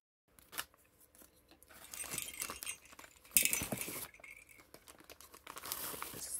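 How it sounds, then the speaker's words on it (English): A jumbo jingle bell on a handmade Christmas gift jingles in short bursts amid crinkling wrapping paper and packaging handled up close. "I love the big jumbo jingle bell."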